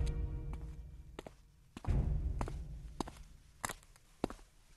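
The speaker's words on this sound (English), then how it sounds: "I heard footsteps" Footstep sound effects in a Moviestorm machinima: a series of separate, sharp thuds and taps at uneven intervals, fairly close, with a heavier thump near the middle.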